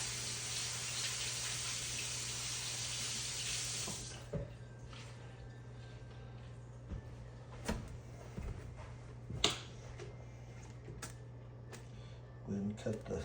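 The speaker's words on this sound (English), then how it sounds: "I'll rinse these off real quick." Running tap water over soup ingredients in a kitchen sink for Filipino bulalo, a steady broadband rush for about four seconds that cuts off, followed by quiet handling clatter and a few small knocks and drips.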